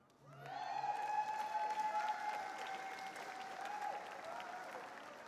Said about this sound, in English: I see there's a very selective applause with that line here